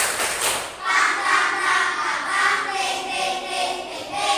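Children in a classroom clapping a rhythmic spirit cheer, steady groups of claps with chanting voices, fairly close and lively throughout.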